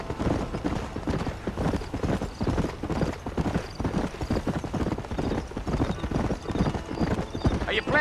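Horse hooves gallop in a fast, dense rhythm in Red Dead Redemption, loud and close throughout, with voices and game ambience mixed in.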